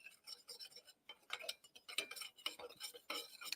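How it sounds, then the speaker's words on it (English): A spoon stirring oats and protein powder in a bowl gives soft, uneven scraping and clinking strokes, quiet and close, repeating irregularly with short pauses. "I'm just gonna give it a little stir around."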